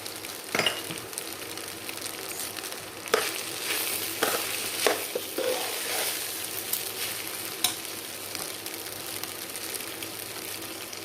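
Fried rice seasoned with a pinch of pepper powder is shaken and tossed in a hot pan, producing a low, even sizzle with scattered light clinks and soft scrapes from the pan, fairly faint and without voices.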